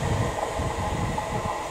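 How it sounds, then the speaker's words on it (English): An approaching train on the railway at Stowmarket rumbles as a steady, loud, low mechanical drone that holds constant throughout. "Train coming."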